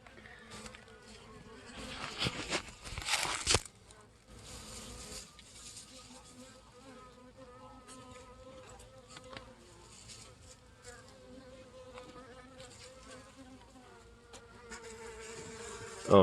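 Dense honeybee swarm buzzing steadily around hive frames during an August hive inspection, a continuous close insect drone with louder rustling bursts near the start and no talking.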